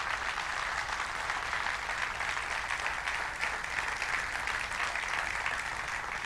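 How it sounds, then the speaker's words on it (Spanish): Church congregation applauding during a Spanish-language sermon, a dense, steady wash of clapping that fills the whole stretch at an even level with no voices over it. "Denle un fuerte aplauso a Dios."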